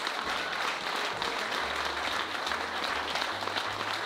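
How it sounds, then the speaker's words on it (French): An audience gives a thunderous, sustained round of applause, dense clapping that stays loud and steady from start to finish. "là c'est le tonnerre d'applaudissements"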